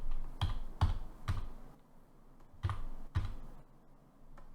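Computer keyboard typing: several sharp, close key clicks in two quick bursts separated by a short pause, then one faint final tap, with no talk.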